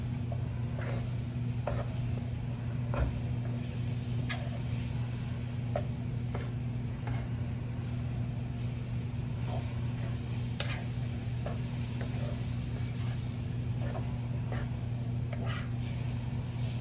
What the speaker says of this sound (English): So we're browning this up.